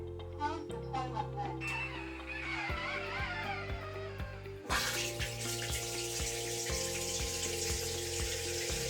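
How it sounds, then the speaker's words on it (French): Automatic touch-free flush of a Japanese smart toilet: a steady rush of water builds and then bursts louder partway through, with gurgling and running water continuing to the end, close and fairly loud. "La chasse d'eau se tire automatiquement, sans contact."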